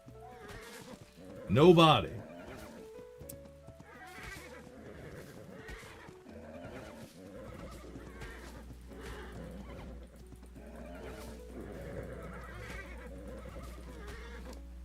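Horses in a medieval roleplay video game give a loud neigh and whinny early on, followed by steady talk with faint hoof sounds and game ambience in the background.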